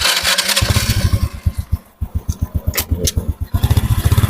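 An old motorcycle is cranked over by its electric starter, giving a rapid rhythmic chugging that stutters and pauses, then catches into loud close pulsing engine firing, with some clatter.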